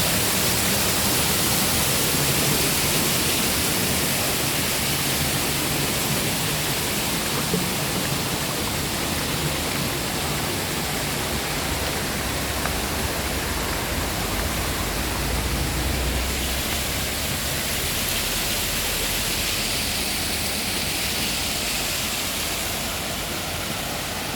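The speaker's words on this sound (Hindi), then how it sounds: "हर तरफ चश्मे ही चश्मे, आबशार ही आबशार।" Springs and waterfalls flowing everywhere after heavy rains, filling the air with a loud, dense, unbroken roar of falling water that stays even from start to finish.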